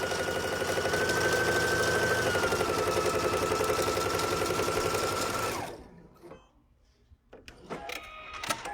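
A sewing machine runs steadily for about five and a half seconds, stitching quilt binding with a quarter-inch seam, then stops, leaving quiet handling sounds.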